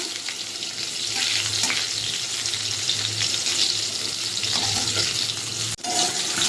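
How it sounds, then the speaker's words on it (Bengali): Turmeric-and-salt-coated eggplant fries in oil in a kadai, giving a steady, loud broadband sizzle that holds evenly throughout with a brief dip near the end. "বেগুনটাকে উল্টে পাল্টে লালচে করে ভেজে নেব।"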